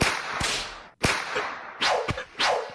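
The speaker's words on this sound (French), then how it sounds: "C'est un fouet." Whip cracks in a mobile phone game, sharp bright snaps each followed by a swishing tail, four strikes in quick uneven succession, loud and close with no talking.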